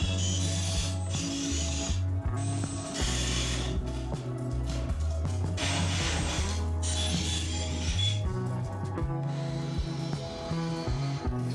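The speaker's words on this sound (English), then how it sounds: "both speakers are mounted and screwed firmly into place" Speakers being screwed firmly into place inside an abandoned boat under restoration: repeated ratcheting driver clicks and whirring bursts come in uneven spells, close and clear, with brief pauses between runs.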